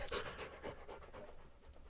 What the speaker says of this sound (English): Dog's come to say hello.